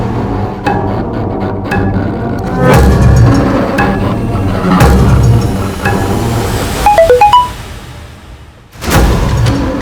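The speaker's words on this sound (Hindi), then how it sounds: "किसका मोबाइल बजा?" Mobile phone ringtone going off in a tense crime drama scene, a brief run of bright melodic beeps rising over background music and rumbling effects.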